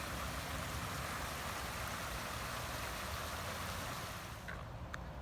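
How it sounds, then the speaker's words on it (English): Steady rushing water from a small garden waterfall in a Japanese garden, a constant broadband roar, fairly close and unbroken. "you can hear the lovely waterfall in the background."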